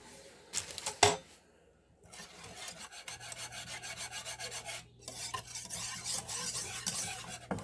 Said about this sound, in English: So you just want to keep stirring that.